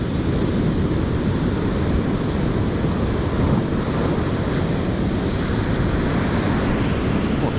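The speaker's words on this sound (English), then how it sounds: "There's some big waves here coming." Big sea waves break on the shore after Storm Amy on an October evening, a loud, continuous roar of surf mixed with heavy wind buffeting the microphone.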